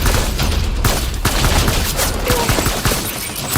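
Loud gunfire from a firefight in the video game Death Stranding, a dense, continuous volley of rapid shots filling the scene with no speech over it.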